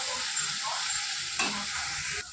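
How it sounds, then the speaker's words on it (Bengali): Fish head being stirred in a pan with chilli powder, turmeric and salt, a steady sizzle of frying under soft scraping, with one sharper clatter of the spoon midway; no talking. "লঙ্কার গুঁড়ো, হলুদ গুঁড়ো, নুন দিয়ে ভালো করে নাড়াচাড়া করে নেবেন।"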